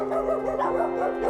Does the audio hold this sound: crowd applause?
no